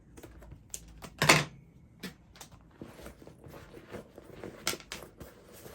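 Scissors snip through lilac floral faux leather fabric, giving a few sharp close cuts with a louder slice early on, then softer scattered clicks and rustles, with no voices.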